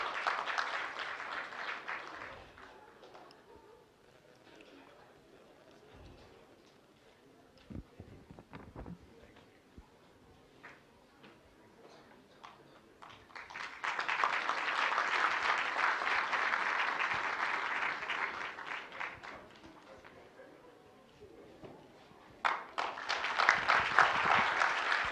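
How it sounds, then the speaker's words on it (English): An audience applauds a poster competition prize winner at a millets week finale in Kuwait, with a long burst of steady indoor clapping, a quieter lull with scattered claps and rustle, then two more strong rounds of applause. "Please give her a huge round of applause."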